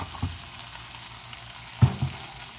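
Garlic and steak strips sizzle in a pan with a steady low frying hiss, broken by a couple of soft knocks and scrapes as a utensil stirs them around.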